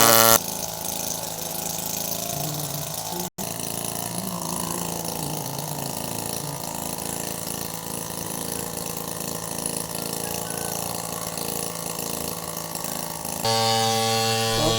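A motorized pump spraying pesticide runs loudly and continuously nearby, a steady mechanical whine with rattling, ratchet-like texture and a brief cut partway through.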